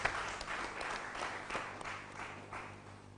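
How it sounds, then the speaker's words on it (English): A seated audience at a broadcast panel event applauds, a dense, steady wash of clapping that swells slightly and then tapers over a few seconds, heard from a modest distance with no clear speech. "Can we give ourselves a round of applause,"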